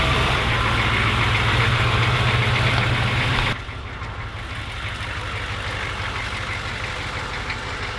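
An American military Humvee engine runs at a steady idle, a close, continuous low drone that drops slightly in level partway through.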